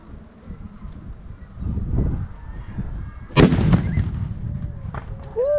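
A historic mortar fires at Old Fort Niagara with a single sharp, booming blast amid a murmuring outdoor crowd, its report ringing out over the chatter.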